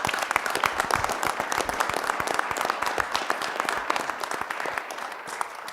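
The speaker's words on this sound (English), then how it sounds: "please give them one more round of applause" Audience applause at a city council meeting, a dense steady patter of many hands clapping that holds at an even loudness for several seconds with no voices over it.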